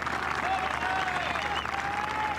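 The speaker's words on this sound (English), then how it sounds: "Padraig Harrington get a wonderful reception here on the 18th" A large golf gallery at the 18th green of the 2012 Irish Open final round applauds Padraig Harrington with sustained, dense clapping, and a commentator talks over it.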